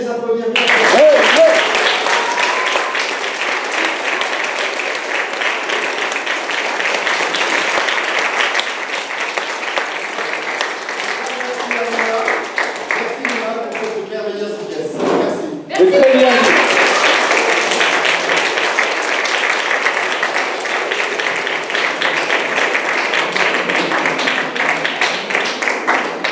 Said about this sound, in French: Alors on peut encore bien les applaudir.